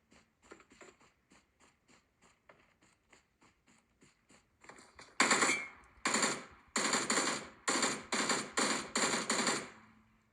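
Gunfire in an open-world shooter played on a Lenovo P11 Pro gen 2 tablet: soft ticking footsteps give way to several loud, close bursts of rapid automatic fire in quick succession.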